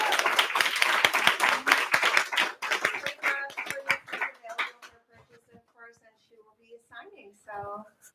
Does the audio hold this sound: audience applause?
yes